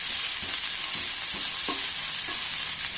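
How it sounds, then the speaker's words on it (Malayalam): Onion and capsicum stir-fry in a pan with a constant, fairly quiet sizzle, broken by several soft scrapes of a spatula stirring the vegetables. "ഇതൊരു 1 മിനിറ്റ് നമുക്കൊന്ന് ഇളക്കി കൊടുക്കാം."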